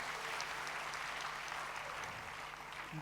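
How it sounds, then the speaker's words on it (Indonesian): A church congregation applauds God during a Sunday sermon, a steady wash of many hands clapping together at moderate distance for about three seconds. "Beri tepuk tangan buat Tuhan saudara."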